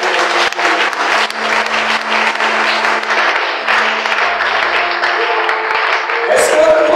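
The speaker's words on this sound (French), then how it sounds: "Est-ce que vous pouvez acclamer le Seigneur pour le pasteur?" A church congregation bursts into sustained, dense applause with some crowd voices mixed in, filling the room steadily from start to end.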